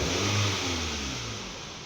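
A 2009 Toyota Camry with a misfire, its engine revved hard at full throttle, heard up close as one loud, steady roar that eases off slightly toward the end, with no talking.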